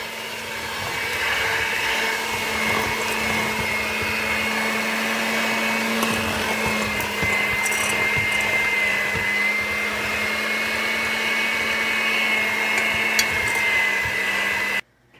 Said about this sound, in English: So I am going to just blend this up for a couple seconds to get it incorporated.